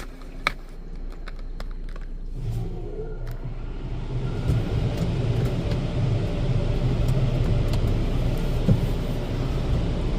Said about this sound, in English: Those sound like superior blowers